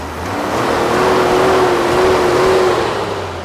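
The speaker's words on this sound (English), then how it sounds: "now let's boost up the car a couple more times" Nissan Skyline GT-R R34 M-Spec Nür fitted with Nismo air filters revs up, its engine note rising and holding in one smooth sustained rev before easing off, close and loud with no talking.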